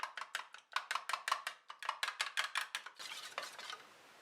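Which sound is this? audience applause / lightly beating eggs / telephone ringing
lightly beating eggs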